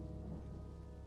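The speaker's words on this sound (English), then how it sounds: "Lightning storm." A thunderstorm with steady rain pours evenly, a low rumbling bed under the hiss of falling water, with no voices.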